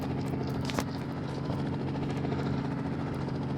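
A helicopter arrives in a video game set around a police station, its steady rotor chop and engine drone filling the scene at a constant, fairly loud level with no talk over it.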